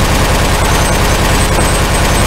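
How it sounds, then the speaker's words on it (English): Two pistols fire rapidly in the video game LeadenSky, a dense, continuous barrage of loud shots that blur into near machine-gun chatter, harsh and saturated for the whole stretch. "let's do it with two pistols."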